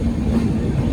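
A Katra–Jabalpur weekly superfast express rolls along a single electrified branch line after turning off the main line near a junction, giving a steady, loud low rumble of running wheels and coaches with no voices.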